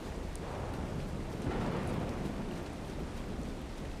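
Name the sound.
rain and thunder in the video game ARK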